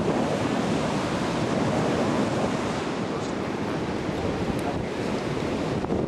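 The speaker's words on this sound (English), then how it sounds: "Large waves." Large ocean waves break and wash steadily onto Tortuguero Beach, a loud, continuous roar of surf with wind buffeting the microphone throughout.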